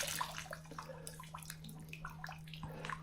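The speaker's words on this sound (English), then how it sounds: "let the water out of it." Water drains from the radiator of a 1982 VW Westfalia, a faint, steady trickle and splash under a constant low hum, close by and alone with no talking.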